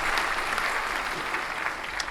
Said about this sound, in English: Let me hit you with the applause sound effect.